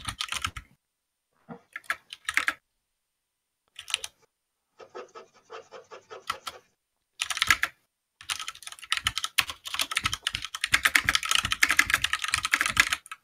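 Rapid clicking keystrokes on a computer keyboard come in irregular bursts with pauses, ending in a long stretch of continuous typing.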